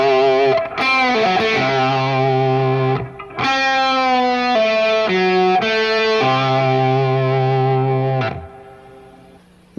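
A blues rock lick played on an electric guitar with heavy distortion, made of sustained bent and sliding notes separated by short breaks. The guitar is loud, close and alone, and the final note fades away.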